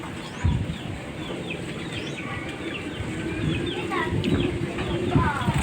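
Small birds bathing in water and chasing one another chirp and twitter in quick, scattered bursts, close by, over a steady background and with a person's voice speaking at times.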